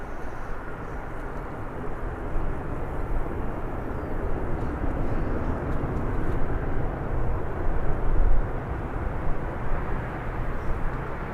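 Airliner touching down and rolling out on the runway at Birmingham Airport, a steady broad roar of engines and rumble held throughout, fairly distant with no talking.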